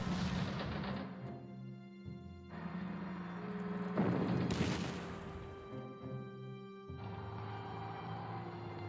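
Artillery fire from the Panzer Corps war game: a series of loud booming blasts, each decaying into a rumbling tail, with sharp cracking impacts between them and no talking.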